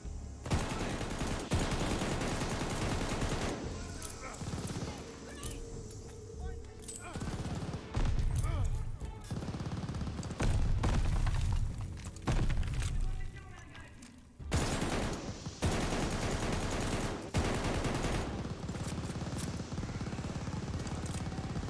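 Heavy gunfire in the shooter Call of Duty Vanguard pours out in long, loud bursts broken by brief gaps, layered with booming impacts and battle noise, while a voice talks over parts of it.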